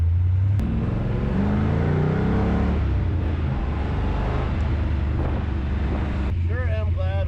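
An old car at 68 degrees, likely early iron, pulls onto a highway. Its engine and road noise roar steadily and loudly, mixed with heavy wind buffeting, and a few higher chirps come near the end.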